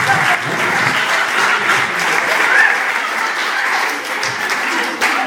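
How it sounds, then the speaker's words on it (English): An audience bursts into applause, a dense, steady wash of clapping from many hands that carries on evenly for several seconds without pause. "Give them a big round of applause."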